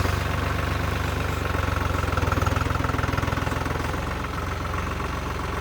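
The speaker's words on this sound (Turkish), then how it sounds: "Arkadaşlar şu an traktör durmuyor gidiyor." A TÜMOSAN 5275 L orchard-type tractor engine runs at a steady, throbbing idle close by, its low rhythmic pulsing constant throughout with no voices.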